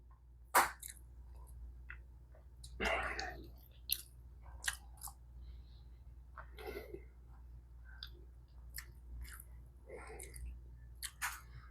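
A crispy homemade crab cake being bitten and chewed up close: a few sharp crunchy bites followed by quieter, irregular chewing and munching over faint background hum.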